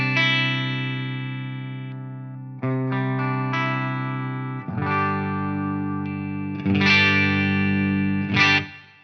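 A PRS Custom 24 electric guitar on a clean tone is run through a modulating effect. Sustained chords ring out and change every couple of seconds, close and even, with a shimmering, swirling tail.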